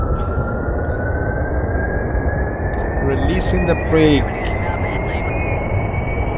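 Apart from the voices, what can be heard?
aircraft engine starting for takeoff in video game Kerbal Space Program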